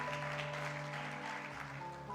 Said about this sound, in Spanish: la recibimos con un fuerte aplauso a Cristo